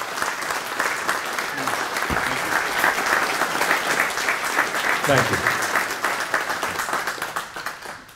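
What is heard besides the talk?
audience round of applause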